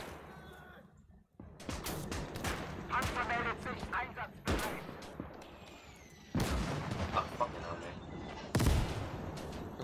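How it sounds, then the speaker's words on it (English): Mortar and gunfire boom and crack in the Gates of Hell war game, several sharp loud impacts scattered among denser bursts of shooting, with a voice talking over parts of the battle. "they're mortaring inside"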